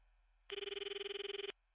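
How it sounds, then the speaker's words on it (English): A video game telephone rings in a single continuous electronic trill, a rapid even pulsing tone lasting about one second and standing clear against near silence. "wasn't the phone ringing just a while ago as well?"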